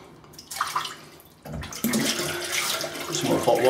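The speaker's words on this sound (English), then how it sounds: "Some more hot water in the sink." Hot water runs from a tap into a sink, starting as a light trickle and then swelling into a fuller, steady splashing stream that builds in volume toward the end.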